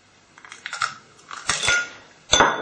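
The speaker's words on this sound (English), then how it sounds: "I'm going to use my little sort of hand whisk here, just to try and make it a bit frothy really, get it all well mixed up." A small hand whisk clatters and scrapes against a bowl as two eggs are beaten until frothy, giving irregular metallic clinks and swishes at close range with no talk.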